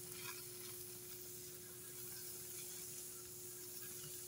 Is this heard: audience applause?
no